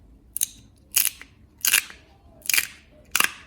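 A dried crochet Christmas ball gives five sharp crackling crunches at roughly even intervals as the balloon inside separates from the stiffened yarn, heard close in a quiet room.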